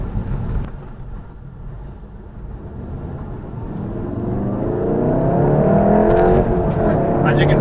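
A VW Golf R hot hatch engine and exhaust rumble low and steady, building into a deeper, louder rev toward the end.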